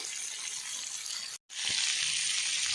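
Mackerel (bangda) frying in a pan over a medium flame in an Udupi-style masala fry, a steady bright sizzle that cuts out briefly, then returns louder.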